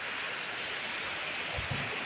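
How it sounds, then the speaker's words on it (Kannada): Rain falls steadily outside with a wind-blown hiss, a continuous broadband wash at moderate distance with a couple of faint low thumps near the end. "ನೋಡಿ, ಮಳೆ ಬರ್ತಾ ಇದೆ ಔಟ್ ಸೈಡ್ ಫುಲ್ಲು"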